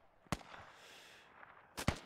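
A grenade detonates in a Squad-style military shooter match, with two sharp broadband blasts, one early and a heavier double burst near the end, separated by a lingering rumble of distant battle noise.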